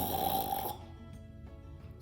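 A storyteller imitates a lion snoring loudly, one long rasping snore followed by a quieter breathy stretch, heard close and alone.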